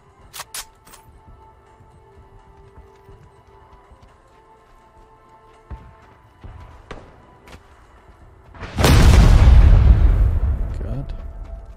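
A C4 charge explodes in the battle-royale video game PUBG: one sudden, loud, close blast near the end with a long roaring, rumbling decay. Quieter scattered gameplay clicks and thuds come before it.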